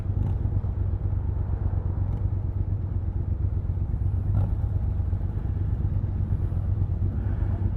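A 1984 BMW R80 RT motorcycle with its 800 cc engine idles nearby at a cafe racers gathering, a steady low throbbing rumble with faint clatter, continuous and unchanging throughout.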